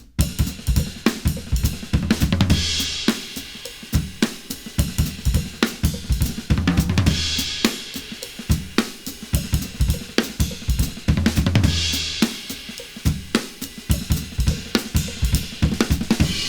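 A drum kit plays a busy, syncopated non-linear fill in 16th-note triplets, cymbal crashes recurring every few seconds over rapid kick and snare strokes, loud and close.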